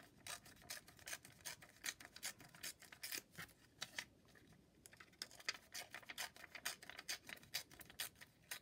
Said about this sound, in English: And then I'm going to rip a little bit of vellum.